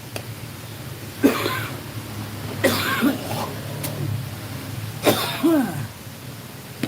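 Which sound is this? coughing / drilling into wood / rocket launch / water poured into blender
coughing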